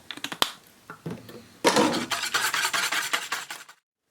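Whisk or spoon stirring a custard batter of milk and liquid vanilla in a bowl, a few sharp taps on the rim, then a steady, close rhythm of brisk scraping and clinking strokes; no talking.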